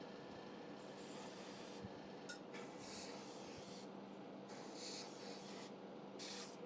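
An airbrush hisses out paint in close, steady bursts that start and stop every second or so, a soft continuous spray with no talking.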